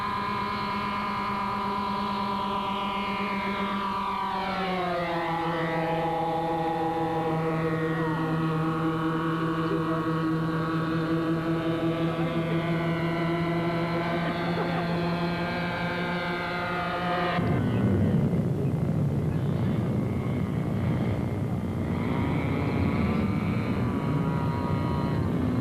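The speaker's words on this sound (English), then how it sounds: "Then a high-speed flyby is made before setting up for the first landing." A model airplane makes a high-speed flyby, its engine a sustained, tonal whine that dips in pitch as it passes and then shifts to a rougher, louder drone, with no voices.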